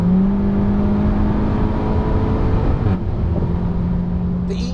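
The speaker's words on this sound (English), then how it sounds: "On the Autobahn, going 170 kilometers or so, hit it, and it seriously still pulls." A Seat Leon Cupra 290 with the EA888 turbo four-cylinder pulling hard on the Autobahn at about 170 km/h: a loud, continuous engine drone rising in pitch, a brief dip near the end, then the pull resumes.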